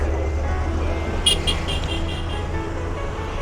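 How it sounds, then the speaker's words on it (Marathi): Evening road traffic in Mumbai, a steady low rumble of passing cars and vehicles with a brief horn-like tone mid-way, continuous and moderately loud under a speaking voice. "हे बघा ॲज युजल हे इकडचं संध्याकाळचं ट्रॅफिक"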